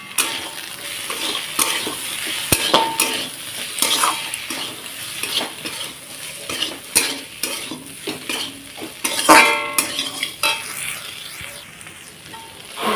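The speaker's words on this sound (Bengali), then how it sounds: "হলুদ গুঁড়ো দিয়ে আবার ভালোভাবে নাড়াচাড়া করে দেবো।" Puti fish curry being stirred in a pan after turmeric goes in, with a continuous oily sizzle, frequent scraping and clinking of a metal spatula against the pan, and a few sharper knocks.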